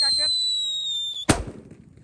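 A Super Kaget firecracker goes off with a single sharp, loud bang after a high whistling tone and a brief voice, followed by a short decaying rumble.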